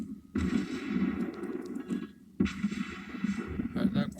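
Heavy gunfire from the British battleship Nelson in World of Warships Blitz booms in two loud bursts with rumbling tails, separated by a short gap, with further game sounds after.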